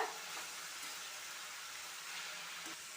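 Fresh coriander and a handful of mint sautéing in a pan for a coconut-free chutney, a steady soft sizzle and hiss throughout, with no talking.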